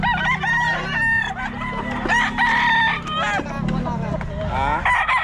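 Roosters crow repeatedly at a busy chicken market in Bocaue, with overlapping loud and distant calls and clucking over crowd noise and people talking.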